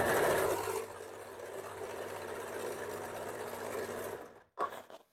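A sewing machine runs steadily while stitching a princess cut blouse, loud and continuous for about four seconds before stopping, followed by a couple of brief mechanical clicks.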